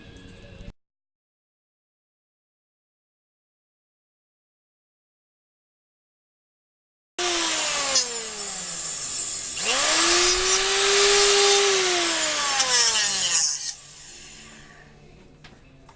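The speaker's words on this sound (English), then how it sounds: "So I'll get our handy dandy cutter and we'll get this cut off." A power cutter grinds through the end of a threaded steel tie rod on an electric Dingo, starting abruptly after a silent stretch, loud and harsh for about six seconds with pitch sweeps, then fading.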